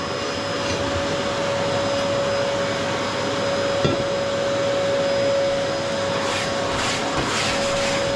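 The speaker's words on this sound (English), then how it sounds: "Give it a vacuum off." A vacuum cleaner runs steadily while cleaning out a Windhager pellet boiler, a loud continuous whine with a constant hum that holds for several seconds, with occasional clunks against the metal.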